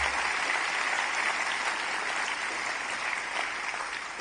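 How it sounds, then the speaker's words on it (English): Sustained, even applause from an audience at the 2026 Ockham New Zealand Book Awards ceremony, a broad wash of many clapping hands that tapers slightly at the close. "A round of applause for Mark and Ockham Residential,"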